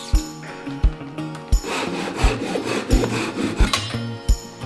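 Wood is cut with a handsaw in steady back-and-forth rasping strokes, close and clear, with a few sharp knocks between strokes.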